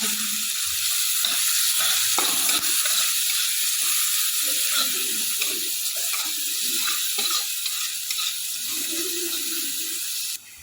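Onion fries in hot oil with turmeric and a dried red chilli, giving off a steady, close sizzling hiss that runs unbroken throughout, with no talk.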